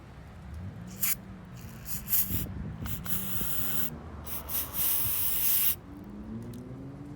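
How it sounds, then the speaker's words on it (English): Brake cleaner sprayed onto a part during coolant and heater hose work on a 1997-2001 Honda CR-V, heard as several sharp hissing aerosol bursts of varying length, close up, with low clatter between them. "all I have is some brake cleaner. And so I'm going to spray a little bit of that in there"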